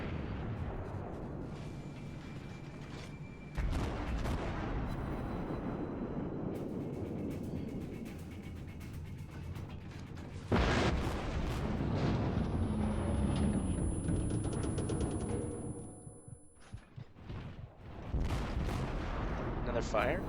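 Warship guns firing in World of Warships, several loud booming salvos with rumbling explosions between them, separated by quieter stretches of engine and water noise.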